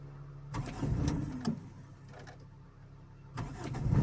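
A car engine cranking and catching during a driving lesson, two bursts of starter whirr and rumble separated by a quieter lull, close and inside the cabin with no talk.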